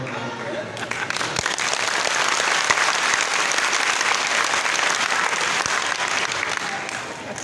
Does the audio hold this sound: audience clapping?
yes